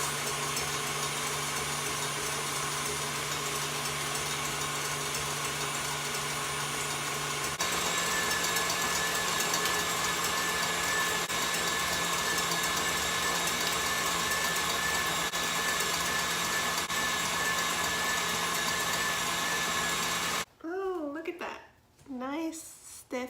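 Electric mixer whipping egg whites and sugar for chocolate French macarons runs as a steady, loud, continuous whir that shifts pitch partway through, then stops near the end, followed by a few brief voice-like sounds.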